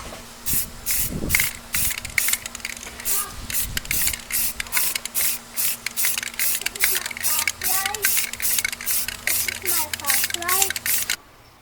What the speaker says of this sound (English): You're going to go ahead and give it just a light coat on both sides.